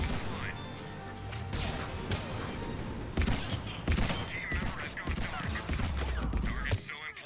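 Rapid bursts of gunfire from a Mass Effect 3 multiplayer match against Cerberus, dense and continuous with crashes and impacts layered through the shooting, alongside a speaking voice.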